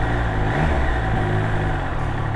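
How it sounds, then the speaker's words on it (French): A steady, low hum from a Triumph Trident three-cylinder motorcycle engine drones on throughout, a soft purring idle with slight rises in pitch, close by and with no voices. "une machine plutôt discrète avec un petit ronron qu'on ne devine pas forcément être un 3 cylindres"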